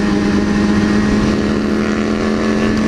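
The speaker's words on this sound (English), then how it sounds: "why would anybody like a muffler like that or exhaust?" A Harley motorcycle's muffler exhaust in a video game, a loud continuous droning engine note with a steady low hum, close and unbroken.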